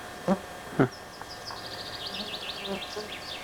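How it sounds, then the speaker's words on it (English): High, thin chirps and twitters from small birds run steadily through the background, with a couple of brief thumps early on. "You hear the birds"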